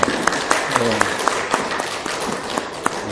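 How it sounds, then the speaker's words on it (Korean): Congregation applause for the church choir after a hymn at a Sunday service, a loud, continuous patter of many hands with sharper individual claps standing out and voices under it. "우리 박수 한번 보내드립시다."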